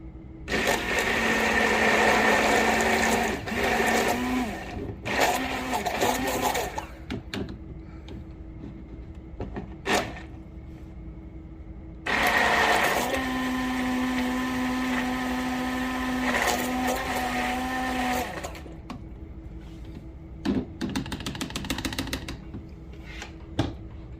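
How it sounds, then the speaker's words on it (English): A stick blender whirs in soap batter, with two loud bursts of several seconds each, separated by quiet stretches and short taps and clatter. "I might hit this with the stick blender just to get it where I need it to be"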